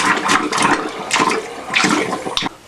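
A draining bathroom tap in a static park home sputters as air and water spit out in bursts, loud and close, with irregular gushing pulses and a sharp final sputter.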